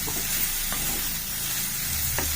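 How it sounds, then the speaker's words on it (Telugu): Bitter gourd pieces fry in hot oil with a loud, continuous sizzle close up, broken by a few light stirring clicks. "ఆయిల్లో మంచిగా వేగుతాయి, ఫాస్ట్ అవుతాయి"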